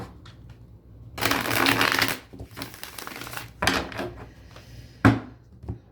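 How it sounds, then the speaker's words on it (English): Cards riffled and shuffled in a few quick, crisp bursts, close by, with short pauses between them. "one more shuffle"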